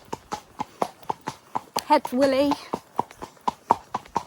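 Horse hooves clip-clop in an even, steady walking rhythm while out on a ride, close and distinct, with a person talking over the hoofbeats partway through.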